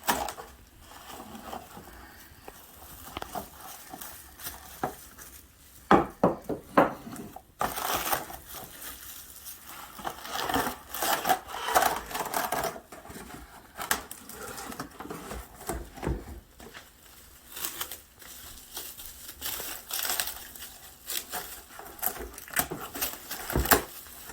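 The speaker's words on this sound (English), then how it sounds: "we're going to cling wrap the meat" Cling wrap is pulled and wound tightly around a beef pot roast, producing crinkly, crackling plastic rustles in uneven bursts, close and fairly quiet, with sharper crunches scattered throughout.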